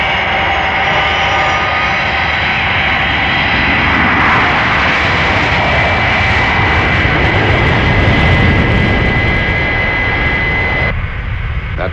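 Fire Flash jet engines from Thunderbirds roar loudly and steadily, a dense, unbroken blast that holds for the whole stretch and eases slightly near the end, with no voices.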